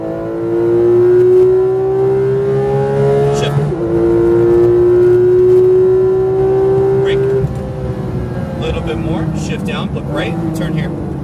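A Porsche GT3 RS accelerates hard on a track, its engine note climbing steadily through a gear, easing briefly for a shift, then pulling again, loud and close from inside the car, with an instructor's voice speaking over it.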